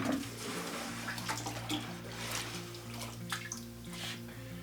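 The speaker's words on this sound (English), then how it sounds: "Let me dip this in a bucket of water here." Tough skirting leather dipped into a bucket of water, giving a steady splashing, trickling wash with small drips, close and moderately loud, running continuously with no talk.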